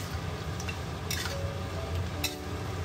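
Lamb chops stir-fried with spices, onion and dried chili give a quiet, constant sizzle, broken by a few light clinks of a utensil against the pan.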